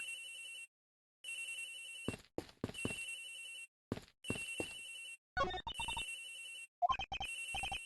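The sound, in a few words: cell phone ringing, from video game Ace Attorney Investigations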